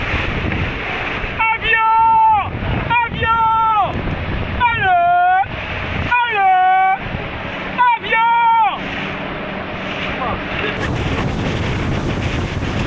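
Strong wind buffets the microphone aboard a yole sailing boat on open water, with a loud whooshing roar throughout while a person calls out in drawn-out shouts over it.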